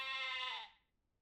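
A single sheep's bleat in the farming game Ranch Simulator, one clear, fairly quiet, wavering call lasting about half a second before it cuts to silence.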